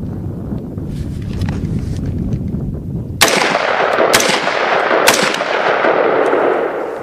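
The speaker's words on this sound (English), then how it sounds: "we're going to fire a couple of rounds semi-auto" A military rifle fires single semi-automatic rounds outdoors during weapons training: three sharp, loud cracks spaced about a second apart, each followed by a rumbling echo over steady wind noise.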